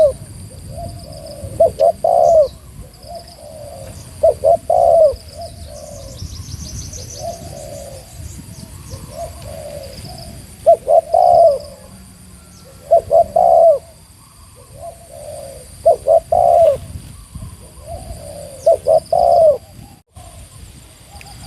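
A spotted dove coos repeatedly in short phrased bursts, several soft mellow calls in a regular rhythm, with faint chirps and outdoor background noise between.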